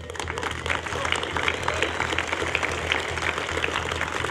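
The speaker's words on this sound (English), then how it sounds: "his stone cold audience applauds one last time" Audience applause at a SpaceX Starship update event, with steady, moderate clapping from a crowd that runs evenly through the whole stretch.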